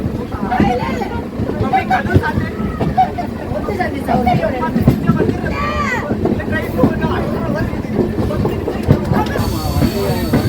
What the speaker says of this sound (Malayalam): ഗോവയിലെ വാസ്കോഡഗാമയിൽ നിന്ന് 1263 കിലോമീറ്റർ കവർ ചെയ്ത് തമിഴ്നാട്ടിലെ വേളാങ്കണ്ണി റെയിൽവേ സ്റ്റേഷനിലേക്ക് ഇതാ ട്രെയിൻ എത്തിക്കൊണ്ടിരിക്കുകയാണ്